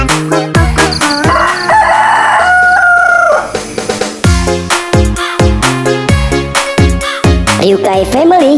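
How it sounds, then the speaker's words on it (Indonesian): Rooster crowing and chicken clucking come through loud and close over a bouncy, rhythmic children's song, with sharp repeated bursts layered on the musical beat. "suara ayam tok tok tok tok tok, kalau ayam jantan kuk kuk kuk kuk"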